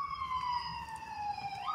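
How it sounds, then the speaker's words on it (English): A wailing emergency siren, police-style, sweeps steadily in pitch at moderate distance outdoors, heard clearly on its own without talk. "Sirens are going off"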